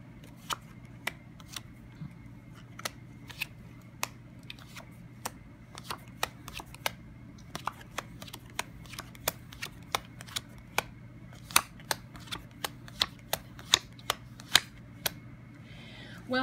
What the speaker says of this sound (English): Cutting the cards now on your behalf.